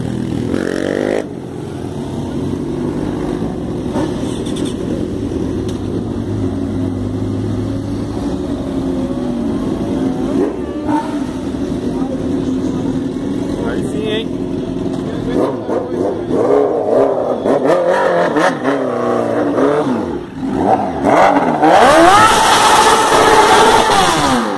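Several motorcycles rev their engines and ride off, the engine note rising and growing louder toward the end, with people talking over the steady rumble.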